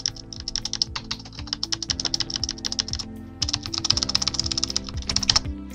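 Rapid, loud computer keyboard typing during a Minecraft Skyblock session, clustered keystroke clicks in bursts with brief pauses, close and dry, over faint game sounds.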